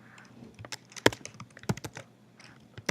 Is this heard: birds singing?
no